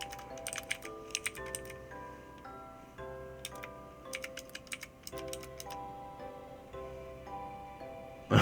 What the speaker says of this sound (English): I'm having a little bit of difficulty typing this in here.